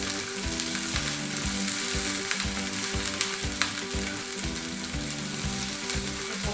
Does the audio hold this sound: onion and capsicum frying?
yes